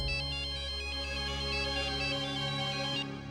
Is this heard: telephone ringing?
yes